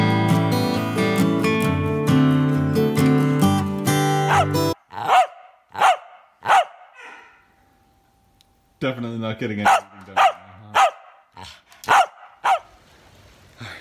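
Pet dogs bark indoors in a sharp series of loud, evenly spaced barks, following a stretch of music, with a brief spoken remark between bursts.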